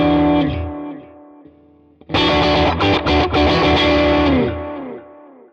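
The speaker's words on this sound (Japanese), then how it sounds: "おそらくこっちがあまり歪みが深くないオーバードライブ" A Tone King Imperial MKII amp modelled in Neural DSP plays an overdriven electric guitar, crunchy and mildly distorted. A sustained chord rings out and fades, then a louder strummed passage with a few choppy stabs follows, up front and alone.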